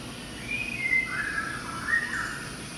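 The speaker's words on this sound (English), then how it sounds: "You hear the birds?" Bird chirps and whistles play inside a children's museum art exhibit, faint twittering calls drifting over a quiet room hum, with no talking during the moment.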